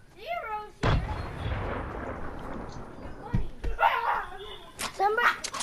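Grenades burst in a video game shooter, a heavy boom near the start trailing off into rumble, with further short blasts later, while players talk over the action.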